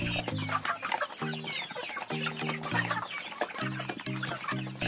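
Chickens feeding on homemade grain feed: soft repeated clucks and peeps mixed with quick, sharp pecking taps, fairly close and moderately quiet.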